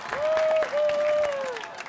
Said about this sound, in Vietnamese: Mọi người cho một tràng pháo tay.